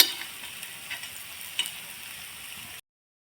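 Banana rava paniyaram balls fry in a pan with a soft, steady sizzle and occasional small pops, heard close and alone before cutting off abruptly.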